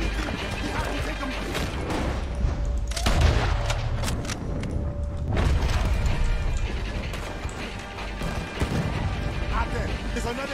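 In Red Dead Redemption 2, rapid, continuous gunfire and booming cannon explosions rattle throughout, dense and loud, with shouting voices mixed into the chaotic battle noise.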